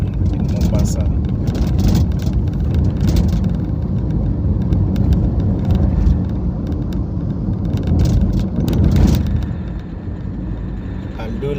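Car driving through the streets of Mombasa, a steady low engine and road rumble filling the cabin, loud and continuous, with someone talking over it.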